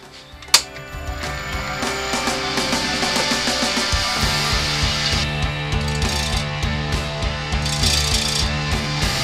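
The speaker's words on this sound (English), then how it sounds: "So I'm going to start shaping it very, very carefully to take some weight off the ends so I can then increase the speed of the lathe." A burr oak bowl blank spins on a wood lathe, a steady mechanical hum with a rhythmic rumbling pulse from the lopsided winged blank, a sharp knock near the start and continuous scraping tool noise throughout.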